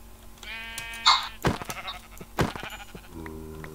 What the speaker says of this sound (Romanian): Uite o oaie